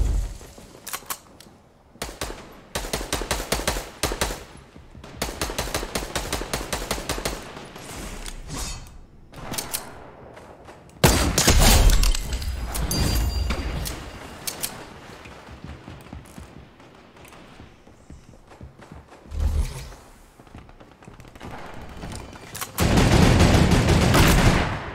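Fortnite gunfire comes in repeated bursts of sharp, loud shots with gaps of quieter game sound between them. The firing rhythm changes from fast volleys to spaced single shots.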